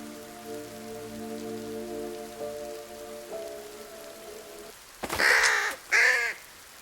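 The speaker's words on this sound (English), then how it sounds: "The bird dropped something from its beak." A crow caws twice, loud and close, in the video game Mystery Detective Adventure, after a stretch of steady rain-like ambience with a low droning tone.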